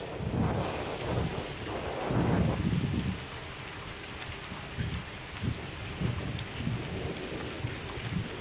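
Rain pours during Cyclone Tauktae in Rajasthan, India, with deep rumbles of thunder rolling through. The heaviest roll comes early, and the steady downpour continues underneath.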